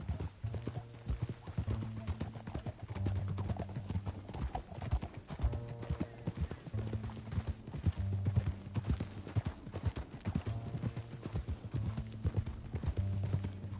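Steady clip-clop of horse hooves trotting over a low rhythmic musical drone, with an occasional snort or whinny mixed in, from the video game Red Dead Redemption 2.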